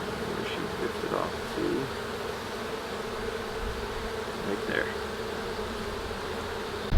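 Honeybees buzz around an urban beehive in a dense, steady, close-range hum, with individual insects briefly louder as they fly past.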